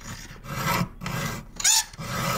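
A hand file rasps across a worn, very hard Stihl chainsaw chain in repeated strokes, close and fairly loud, with short pauses between passes and no talking.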